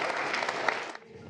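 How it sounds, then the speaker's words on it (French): Audience applause for student teams at a cégep science contest, a dense sustained clapping that fades out toward the end. "On les applaudit."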